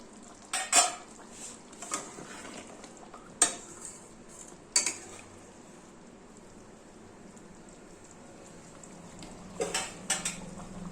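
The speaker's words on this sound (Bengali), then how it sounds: "এটাকে মিশিয়ে নিয়ে ঢাকা দিয়ে 3-4 মিনিট হতে দেব" A spoon stirs shahi paneer in a kitchen pot, giving a few sharp metallic clinks and scrapes spaced seconds apart, then a lid is set down with quick clanks, all close and fairly quiet with no talking.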